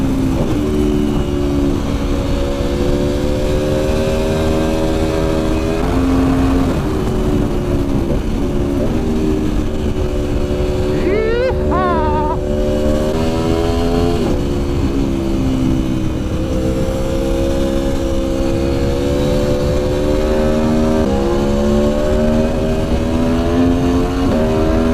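A 2019 Aprilia Tuono Factory motorcycle engine pulls hard under acceleration, a steady close, loud drone with rising harmonic bands and a brief higher whine partway through, with no speech over it.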